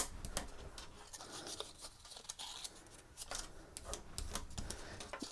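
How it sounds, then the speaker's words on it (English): Bone folder scraping and creasing paper along the angles of a small paper house chimney, a soft, close, rhythmic series of dry ticks and rubs with no talking. "I'm going to use a bone folder for this on these angles."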